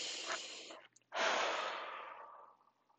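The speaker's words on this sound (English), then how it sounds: "So let's take a deep breath." A slow, deep breath drawn in for about a second, a brief pause, then a long audible exhale that fades over nearly two seconds, close and clear with no talking.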